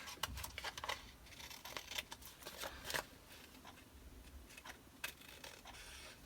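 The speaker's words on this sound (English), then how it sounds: "So let me just trim that part off." Scissors trimming excess paper from a belly band, a run of short, crisp snips and rustles that come in quick irregular bursts, close and fairly quiet, with no talking.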